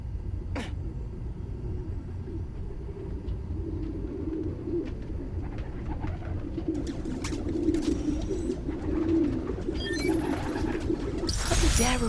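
A flock of pigeons coos in a low, overlapping murmur from the Spider-Man Miles Morales game, with a few sharp flutters and clicks and a brief bright burst near the end.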